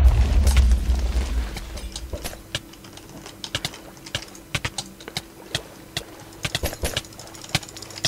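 A cannon explosion during a Minecraft server raid opens with a loud, low booming blast, then fades into a string of sharp, scattered clicks like keyboard typing.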